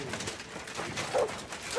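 A dog barks in the medieval role-playing game Kingdom Come Deliverance II. Two or three short, moderately close barks stand out over a steady bed of game ambience.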